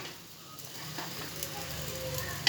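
Aloo tikki potato patties fry in a pan of oil with a soft, steady sizzle, close but fairly faint, with a light crackle and a small clatter at the end.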